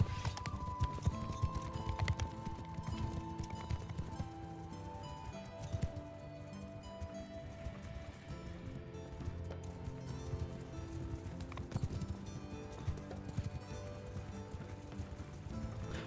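Horses gallop across a Mount & Blade II: Bannerlord battlefield, a dense continuous clatter of hooves under a busy layer of game music and battle noise.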